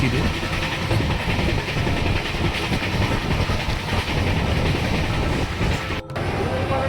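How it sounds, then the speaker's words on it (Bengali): A train rolls steadily along the tracks at speed, with a loud continuous rumble and rhythmic wheel clatter throughout. "দুর্বার গতিতে ট্রেন এগিয়ে চলেছে"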